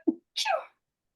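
A single sharp sneeze, close and fairly loud, with a short intake burst followed by the explosive release, then silence.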